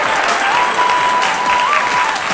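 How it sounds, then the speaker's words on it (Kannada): Loud, sustained applause from the crowd at a children's school annual function, dense and close, with a thin musical tone running faintly beneath it. "ಆ ಮಕ್ಳಿಗೆ ಒಂದು ಜೋರದ ಚಪ್ಪಾಳೆ ಬರ್ಲಪ್ಪ"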